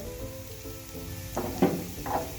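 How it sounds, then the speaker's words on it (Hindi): Onions browning in a pan for chicken bun patties hiss softly under a background hum, with a few louder clattering stirs breaking in near the end. "इसको हमने हल्का सा फ्राई करना है।"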